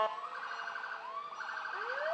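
A fire department ambulance from Spanish Fork Fire and Ambulance sounds its siren during a parade, a steady rising and falling wail with no talk over it.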